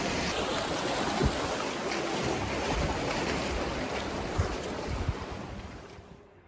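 Steady wind gusting at a beach with surf breaking close by, a continuous loud rushing wash with a few louder bursts, easing off slightly at the end.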